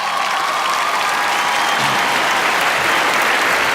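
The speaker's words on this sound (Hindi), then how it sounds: "Okay, finally, तालियां for आलिया।" An awards-show audience at IIFA 2023 breaks into sustained, dense applause, loud and steady throughout with a faint crowd murmur beneath and no clear speech.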